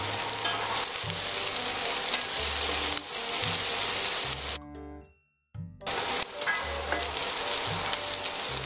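Onions fry in a pan with a steady, close sizzle and the scrape of stirring. The sound cuts out briefly near the middle, then the frying noise resumes at full strength.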